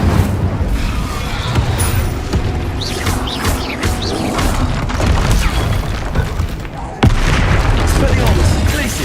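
Fiery Incendio spell blasts in Hogwarts Legacy combat, a loud continuous barrage of booming bursts and crackling impacts with sharp hits around the middle and a sudden heavy blast near the end.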